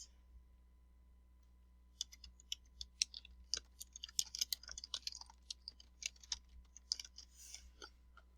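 Typing on a computer keyboard to fill in a date of birth on an IRS online payment form, faint irregular key clicks in quick clusters over a low steady hum, with no talking.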